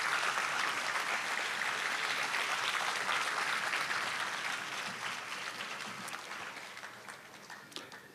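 A concert audience in Shivamogga claps to welcome a singer onto the stage: dense, fairly distant applause that holds steady, then gradually thins and fades toward the end.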